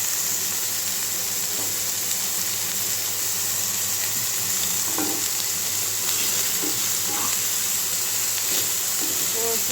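Small mola fish with tomato frying in oil, a dense, loud hissing sizzle running continuously with a few soft stirring knocks, close by and without speech.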